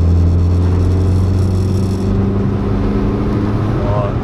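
A tuned VW Lupo 1.8T GT30 with 335 PS accelerates with its tires spinning, a loud, steady, droning engine roar heard from inside the car that holds constant throughout, with people talking.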